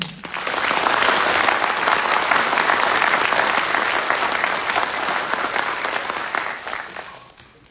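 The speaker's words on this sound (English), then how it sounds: "Please join me in a round of applause for their hard work and dedication." Steady, full applause from an audience at a U.S. Army Drill Sergeant Academy graduation, swelling quickly, holding dense and even for several seconds, then tapering off toward the end.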